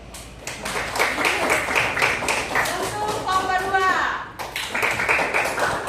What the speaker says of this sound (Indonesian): Pertama kita kasih tepuk tangan dulu untuk kelompok 1.